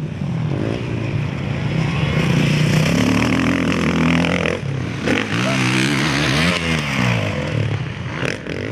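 Motocross motorcycles racing at a Ukrainian Cup and regional championship meet on a motodrome near Kamianets-Podilskyi, engines screaming and revving up and down close by, overlapping and loud throughout.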